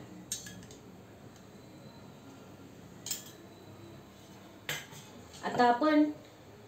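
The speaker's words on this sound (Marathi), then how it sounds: "सर्वप्रथम आपण इथे एक पॅन ठेवला आहे गॅस चालू करून" A pan with ghee sits on a gas stove while metal utensils clink against it in several sharp, scattered taps and a short rattling burst near the end, over a faint background hiss.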